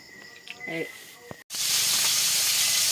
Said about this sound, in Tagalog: Dali-dali siya prito sa duhara ka buok ng isda